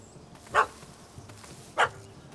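Two separate barks from a puppy in The Witcher 3: Hearts of Stone, each a short sharp yelp about a second apart over a quiet game ambience.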